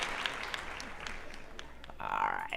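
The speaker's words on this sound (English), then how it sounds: "Let's give a round of applause to my guest, Mr. Jeremy John" Crowd applause for a guest at the close of a live show interview, a steady round of clapping that swells louder near the end.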